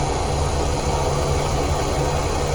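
An MD 500E helicopter at low idle in Microsoft Flight Simulator 2020, heard from outside as a steady, loud turbine drone with a low pulsing throb and no change over a few seconds.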